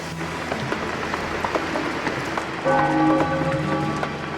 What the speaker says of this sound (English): The rain continues a second day.